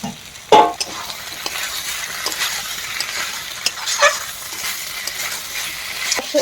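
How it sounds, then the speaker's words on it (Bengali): Soybean chunks with fried potato and pointed gourd are stirred in a hot pan, a spatula scraping and knocking against the metal over a steady sizzle, close by with no talk. "এবার এর ভেতরে আমরা এই যে আলু আর পটল ভাজাগুলো দিয়ে আবার একটু নাড়াচাড়া করে নেব"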